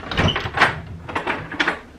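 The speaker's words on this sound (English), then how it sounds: "I make sure all the doors are locked" Someone checks a door at night to see whether it is locked: a few close knocks and rattles of the handle and latch, with short clattering bursts spread across two seconds.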